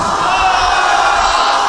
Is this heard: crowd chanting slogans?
yes